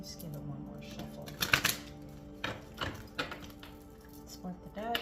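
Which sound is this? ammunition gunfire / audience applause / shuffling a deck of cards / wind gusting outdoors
shuffling a deck of cards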